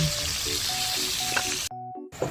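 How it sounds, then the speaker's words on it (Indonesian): Half-fried tofu frying in a pan with beef, giving a dense, loud, continuous sizzle that cuts off abruptly near the end, with faint tonal sounds underneath. "ini saya masukkan tahu digoreng setengah matang guys"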